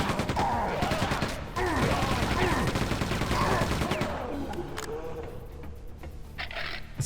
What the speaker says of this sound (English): let's just keep on machine gunning these guys